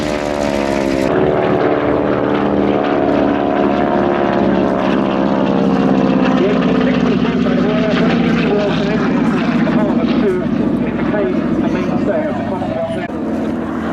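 A North American Harvard trainer flies at the Shuttleworth Fly Navy airshow, its propeller engine droning loud and steady throughout with a gradually shifting pitch, while a commentator talks over it.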